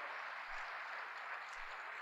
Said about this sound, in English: that applause goes right to my husband